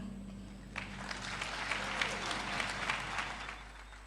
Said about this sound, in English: Another round of applause for Ms. Wangiwe Kambuzi